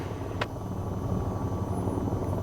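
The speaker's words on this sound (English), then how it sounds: "At this point, the helicopter is ready to take off." A helicopter idles before takeoff in the VTOL VR game, its engine and rotor making a steady low droning rumble with a faint whine and one brief higher swish early on.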